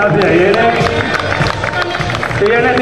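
Audience applause at a fashion show event, a dense burst of clapping and crowd noise mixed with cheers and chatter, fairly loud and continuous throughout.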